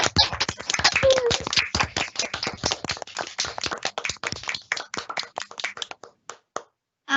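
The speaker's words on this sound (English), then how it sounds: "can we have some applause for Derek, please?" Conference closing-session audience clapping for a student award winner, a crowd of hands at first dense and loud, then thinning to scattered individual claps that fade out near the end.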